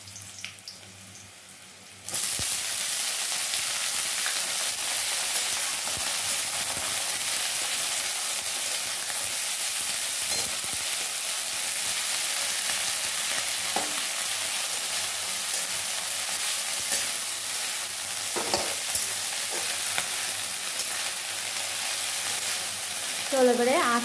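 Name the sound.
washed chopped greens frying in hot oil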